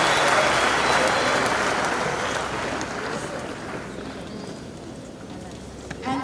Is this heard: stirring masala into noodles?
no